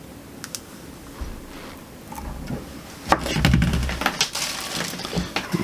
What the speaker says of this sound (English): you can snip it a little bit short